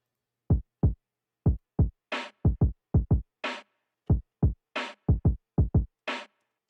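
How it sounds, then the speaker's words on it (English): A boom bap hip-hop drum pattern plays cleanly: punchy kick drums alternating with sharp snare hits in a steady, looping groove, with no talk over it. "This is pretty standard boom bap drum, like kick and snare pattern."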